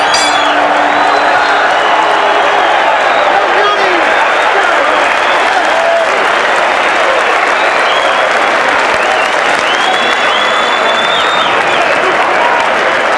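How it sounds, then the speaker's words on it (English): A large boxing crowd at the Mirage in Las Vegas applauds and cheers after a fight, a dense, loud, sustained roar of clapping and whoops filling the arena, with a voice faintly audible beneath. "The crowd appreciating the efforts, particularly of Australian Jeff Fenech."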